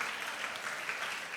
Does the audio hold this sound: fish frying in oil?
no